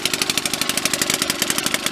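A Kurtz and Root 60kW military generator engine runs near and loud after sitting abandoned, giving a steady, fast, regular knocking pulse and a bright rattling clatter with no talk.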